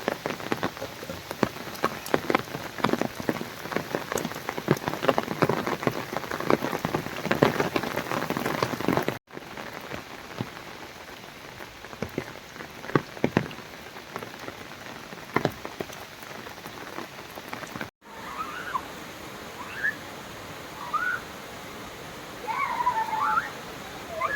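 Heavy monsoon rain pours steadily on surfaces in a Gujarat village, a dense continuous patter, with faint bird calls emerging near the end.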